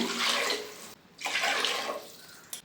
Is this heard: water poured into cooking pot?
yes